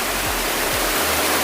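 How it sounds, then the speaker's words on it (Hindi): A small waterfall in forested hills drops about four feet, making a steady, dense rushing hiss close by with no talk over it. "ये देखिए पानी गिर रहा है।"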